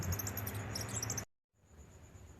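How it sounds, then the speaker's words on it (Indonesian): Mice squeak in quick, high-pitched chirping bursts for just over a second, then stop; after a short silence only a faint, thin steady tone remains. "sora berit ciciricitan."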